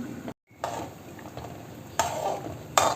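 Masala kuzhambu with coconut bubbling in a pot, a close, steady simmering hiss with a few louder sizzling bursts and faint stirring sounds, with no talk.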